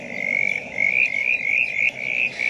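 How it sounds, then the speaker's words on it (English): A brown tree frog croaks in a steady, rapid rattling series, close and fairly loud, with no other sounds around it. "Brown tree frogs are often undetected in your back garden, but you'll hear them croaking"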